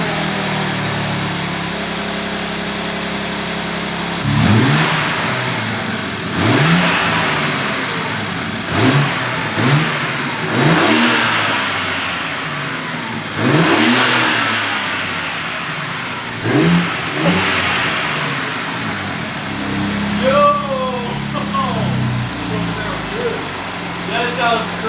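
A BMW G80 M3 with its S58 engine and Burger Motorsports cold air intakes idles, then revs repeatedly in sharp, loud rising and falling bursts at close range, with voices talking over it.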